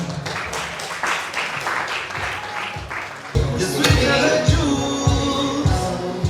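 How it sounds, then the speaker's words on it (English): Audience applause at a school leavers party and book release, a dense wash of clapping through the first half that gives way to louder, steady rhythmic thumps. "So please give a round of applause for Eva Mudhoni"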